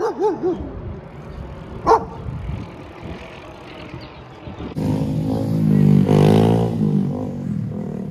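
A dog on an Oakland street barks several times in quick succession near the start, followed by a single bark a moment later, before a passing vehicle's rumble and traffic noise take over.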